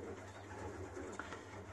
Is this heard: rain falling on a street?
no